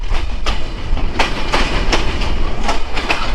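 The Chilahati Express pulls into Akkelpur station with loud, close rhythmic clickety-clack from the carriage wheels over rail joints, each beat spaced about a third of a second apart under a rumbling low hum.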